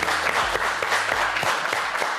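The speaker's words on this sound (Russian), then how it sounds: "Аплодисменты гостю." Studio audience at a Russian television talk show applauding a guest, a dense continuous wash of clapping that stays loud and even throughout.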